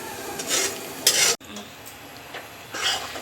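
Semolina stirred and roasted in ghee in a pan, a scraping, rasping stir with soft sizzle, in uneven strokes with a sharp louder burst near the middle, close by.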